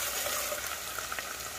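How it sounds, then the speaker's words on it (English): Chopped onion frying in hot oil in a pan while making tomato sauce, giving a steady, close sizzle with small crackles and pops scattered throughout. "We're gonna go ahead and start the frying. Okay, right here we start off with the onion."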